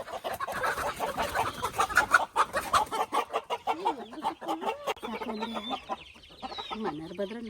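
Chickens cluck and squawk close by in a rapid, agitated series, with rising squeals toward the end and a person's voice briefly mixed in.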